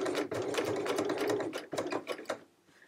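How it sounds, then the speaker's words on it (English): A sewing machine stitches fabric in a quick rhythmic run of needle strokes, close and clear, slowing into a few last stitches before stopping. "I'm going to stitch at a 45-degree angle off the end"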